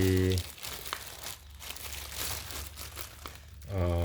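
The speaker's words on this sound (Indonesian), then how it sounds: "Kali ini STE mau unboxing paket ya." Packaging crinkles and rustles as a parcel holding a mini CPU is unboxed, a busy crackling run of plastic handling, with a person talking briefly before and after.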